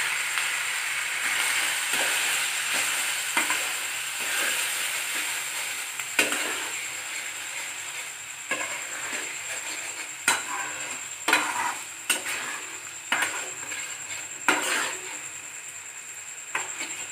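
Coconut paste for pointed gourd korma sautés in a pan: a continuous sizzle under repeated scraping and stirring strokes, with sharper spatula knocks growing more frequent toward the end, close and fairly loud, no voices.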